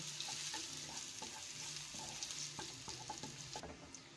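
Garlic sizzles in oil in a pan while being stirred for a goat meat curry, with cumin seeds frying alongside. A steady close sizzle runs throughout, broken by repeated scraping and clinking from the stirring.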